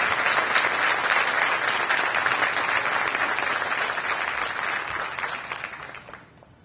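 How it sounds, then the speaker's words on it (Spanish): A crowd applauds heartily at a technologists' graduation ceremony at ITLA, a full, even clatter of many hands that tapers off near the end. "Pido un fuerte aplauso para ella"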